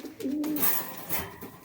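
Fancy-breed pigeons coo close by in a soft, throaty, rolling call that lasts about a second and a half, steady and fairly loud with no talking.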